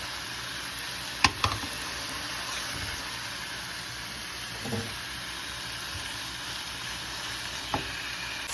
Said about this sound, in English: I'm gonna fry the pork in oil.